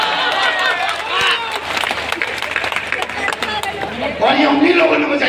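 Audience clapping for a poet at a live poetry and jokes recital, uneven bursts of claps mixed with crowd murmur and the performer talking over it.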